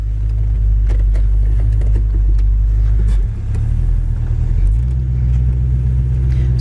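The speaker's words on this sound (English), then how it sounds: "As far as the idle, it seems to run really nice." A red 1967 Ford Mustang convertible idles close by with a deep, steady low rumble that shifts slightly in tone partway through.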